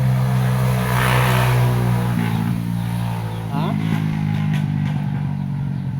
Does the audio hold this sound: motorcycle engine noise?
yes